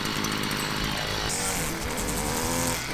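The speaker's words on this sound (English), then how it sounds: "a whippersnipper." A whipper snipper (string trimmer) engine buzzes steadily and loudly throughout, a continuous high-revving motor drone with no speech.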